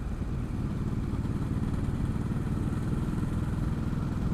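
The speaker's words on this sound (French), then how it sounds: "le moteur Testa Stretta, pas mal, hein, ça cogne pas du tout là" A Ducati Hypermotard 950's Testastretta engine runs steadily at low revs in fifth gear, a deep, even throbbing drone with no speech over it.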